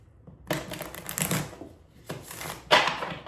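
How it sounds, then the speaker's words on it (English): Oracle cards being shuffled by hand during a reading, three short papery riffling bursts separated by brief pauses, close and clear with no talking. "I'm going to do another shuffle."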